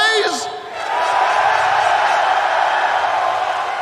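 Large esports arena crowd at a Counter-Strike event roaring with a blend of cheers and boos for FaZe, a sustained dense wash of voices after a brief lull, with a whoop near the start.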